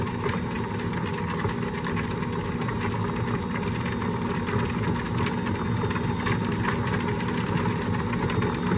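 A stand mixer whirs steadily on its low setting while butter is scattered into oatmeal-maple scone dough, a continuous even motor hum with no talking.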